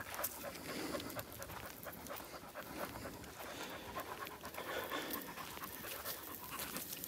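A dog pants steadily on a road walk while kept on a short leash, its quick rhythmic breaths close and continuous throughout, with no talk over them.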